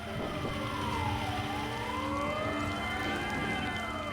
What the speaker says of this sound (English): The siren goes off for a lightning warning and we all have to leave the course.